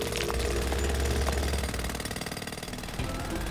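A cartoon jackhammer at a building site rattles loud and continuous, a harsh pounding drone that briefly slackens into choppier bursts before resuming, with no voices.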